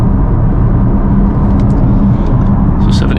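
An Audi RS6 with its resonator deleted roars loudly under hard launch-control acceleration, a dense, steady low engine drone heard from inside the cabin with no talk.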